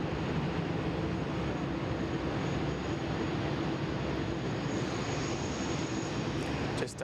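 A Qantas airliner taxis at Sydney Airport in the morning, its engines producing a steady, fairly loud broadband rumble and whine that holds evenly throughout, with no talk.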